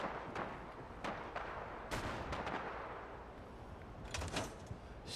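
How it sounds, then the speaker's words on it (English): Gunfire in a video game: scattered sharp shots and bursts crack out irregularly, some louder and closer, others more distant, over a rumbling background, with a cluster of rapid shots near the end. "I heard fucking gunfire."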